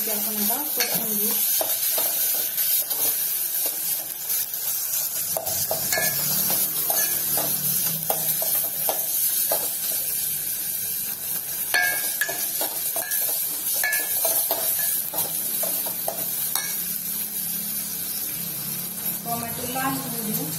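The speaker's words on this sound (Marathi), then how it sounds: "मसाला इथे परतलेला आहे, त्याच्यामध्ये आपण टोमॅटो टाकून घेऊ। टोमॅटो छान पैकी आपण आता पसरून घेऊ।" Tomatoes fry in a pan of sautéed masala while being stirred and spread, a steady close sizzle with repeated scraping stirs and occasional spoon knocks, prepared for a Maharashtrian dal baati meal.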